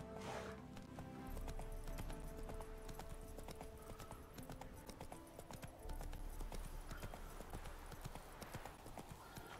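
Steady clip-clop of horse hooves at a trotting rhythm, fairly close, with a brief whinny and game ambience from The Witcher 3: Wild Hunt on PS5.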